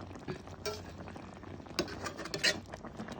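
Salmon slices cooking in a hot cast iron pan give soft sizzling and bubbling with faint clinks of a utensil, plus a few brief louder scrapes and taps, close and steady, with no voices.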